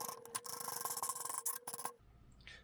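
A nut being unscrewed on a MINIQ BG6300 milling table, close rasping metal scraping in short repeated bursts, stopping abruptly near the end.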